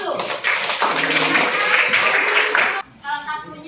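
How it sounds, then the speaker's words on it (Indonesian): Classroom applause from students rises into a dense, loud burst of clapping that lasts a couple of seconds, then breaks off abruptly and gives way to a brief quieter patch of sound. "Tepuk tangan dulu."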